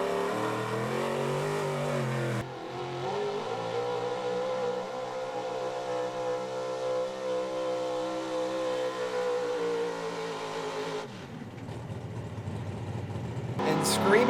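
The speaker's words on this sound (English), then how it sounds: "This is one of the loudest big block engines in the class. Everybody covers their ears when this thing takes off." Big-block high-output 4x4 pulling truck at a truck pull, its engine roaring loud and steady after a sudden start, with a commentator talking over it and a sharp change in pitch near the end.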